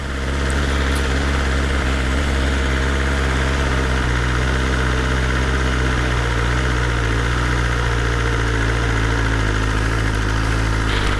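A BMW M1000R motorcycle engine idling high while warming up, a loud, steady, close rumble with an even hum that holds without change throughout.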